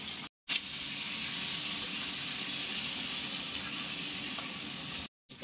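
Cauliflower pieces seasoned with salt and turmeric fry in hot oil, a steady, close crackling sizzle with no speech, broken only by brief gaps near the start and end.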